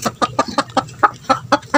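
A chicken clucks rapidly and steadily nearby, about ten short, evenly spaced clucks in under two seconds with nothing else competing.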